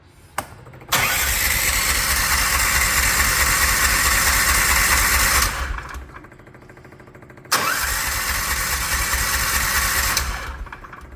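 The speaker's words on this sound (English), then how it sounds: "the engine cranks over with no problems" A Predator 420 engine swapped into a Hisun Strike 4x4 cranks over steadily in two long bursts, the starter's rhythmic churning loud and close with a short pause between attempts, never catching.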